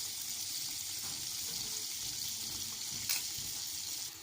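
Chicken pieces frying in a pan for homestyle chicken fry, a faint continuous crackling sizzle with a brief louder pop near the end, no talking.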